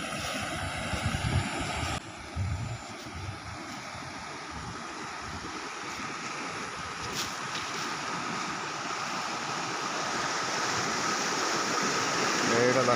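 Floodwater rushing past a village bridge after heavy flooding of rice fields, a continuous broadband roar of flowing water that grows louder toward the end, with a voice talking faintly over it.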